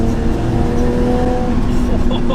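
A 910 bhp big-turbo Nissan Skyline R34 engine drones loud and steady at speed, heard close, as from inside the car, with a continuous throaty roar throughout.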